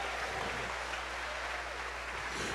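A church congregation applauds at a Christmas service, a dense, steady wash of clapping from many hands that fills the space evenly throughout with no speech over it.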